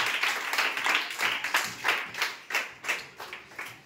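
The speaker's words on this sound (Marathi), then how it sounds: "सगळ्यांनी जोरदार टाळ्या वाजवायच्या तिच्यासाठी" Children in a school classroom clapping for the winner of a brain-challenge activity, rhythmic group claps that start as a dense patter and settle into slower, distinct beats, fairly close and clear.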